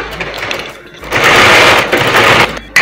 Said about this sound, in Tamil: இது இப்படி மடிச்சுட்டு அதே மாதிரி கேப் விட்டு நம்ம ஒரு தையல் போட்டு வச்சுக்கணும்.